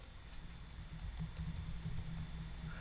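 Soft, rapid tapping of keys on a computer keyboard continues steadily over low background hum, with no talking.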